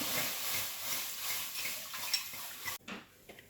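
Water is poured into a cooking pot for carrot murabba, a steady splashing rush that cuts off abruptly near the end, followed by a few light clinks of the pot.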